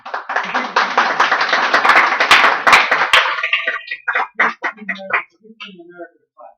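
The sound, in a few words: audience clapping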